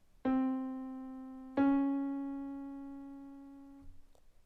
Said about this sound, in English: The first interval that we're going to look at is the minor second